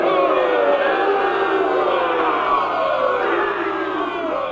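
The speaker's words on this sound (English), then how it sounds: "Angry crowd in D." A keyboard sample of an angry crowd booing, played in the key of D, gives a dense, sustained roar of many voices at steady loudness with no talk over it.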